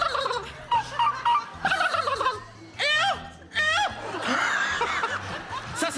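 A man mimics a turkey with a series of warbling gobbles, each a rapid rising-and-falling burst. The gobbles alternate with chuckling and laughter from listeners nearby.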